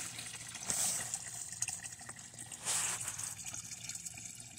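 Water gushes from a hose into a garden pond under construction, a soft splashing flow with two louder surges, alone with no talk.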